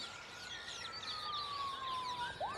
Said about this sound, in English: we've got in the background like police sirens going on and motorbikes